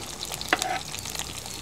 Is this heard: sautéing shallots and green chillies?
yes